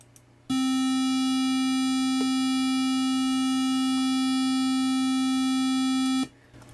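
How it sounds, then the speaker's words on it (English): A steady electronic reference tone plays from a computer as a pitch standard for tuning, held for about six seconds with no talk, a slight click partway through and a cutoff at the end. "I need to play what I've got on the computer, which is the proper tone"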